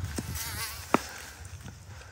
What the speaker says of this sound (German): und ein paar Mücken. So Tausende.